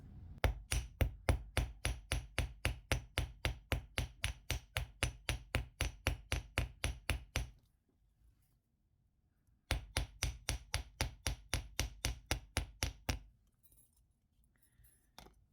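Copper wire ends flattened with a hammer for wire heart jewelry: two long runs of steady, evenly spaced metallic hammer strikes, loud and close, with a short pause between the runs and no talk.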